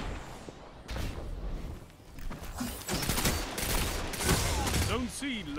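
Weapons fire in a dense, continuous barrage in the Destiny 2 video game, with overlapping rapid shots and impacts alongside game effects, while a voice talks over it.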